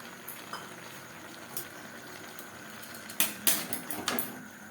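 Chicken momo filling with capsicum, carrot and cabbage is stirred in a pan over a high flame: faint, scattered metallic clinks and scrapes over a quiet background, with a denser cluster of knocks near the end.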